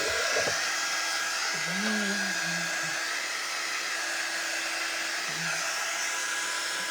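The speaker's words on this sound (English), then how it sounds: "I'm going to go ahead and let this dry just a little bit. Use my drying tool." A handheld drying tool blows a steady, close, whooshing stream of air over wet paint on a cowboy boot sign, running unbroken throughout with no talk.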